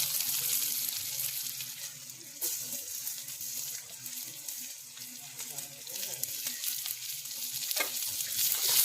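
Chopped onion drops into garlic frying in a pan over a traditional wood-fired stove, a continuous close hissing sizzle with shifting stirring and scraping textures, swelling briefly where the onion goes in and again near the end.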